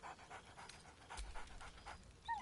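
Scratch, a video-game dog, pants in a quick rhythmic series of close, breathy puffs, closing on a short high whine.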